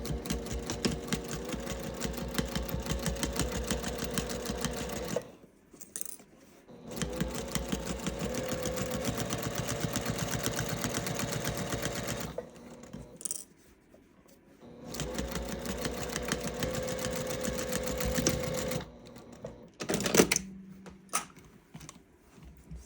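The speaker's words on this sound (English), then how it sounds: "make sure it's not under your needle when you're sewing." Sewing machine stitching binding on a quilted gift bag, running in three long bursts of rapid mechanical chatter separated by short pauses, close and clear.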